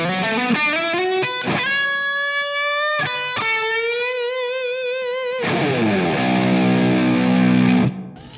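Distorted baritone guitar through an amp pushed by a tube screamer, recorded with a ribbon microphone and cab-software reverb, playing sustained notes and bends, then a thick strummed chord ringing out before stopping abruptly.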